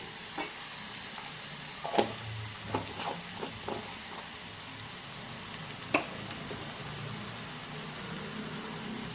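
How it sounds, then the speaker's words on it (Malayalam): Chickpea curry stirred in a pan after fennel powder is added, with a steady close sizzle and hiss and a few light scraping knocks from a spoon against the pan. "അതും കൂടി ഇട്ട് കൊടുത്ത് നന്നായിട്ടത് ഇളക്കുക."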